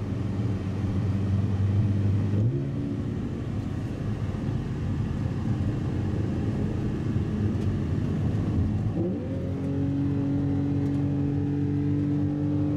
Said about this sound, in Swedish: so we have a Porsche 911 versus Mercedes C63 Black Series.